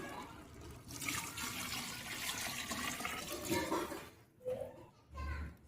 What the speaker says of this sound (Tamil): இந்த ஸ்டேஜில் நம்ம அளவு தண்ணி ஊற்றிக்கலாம்.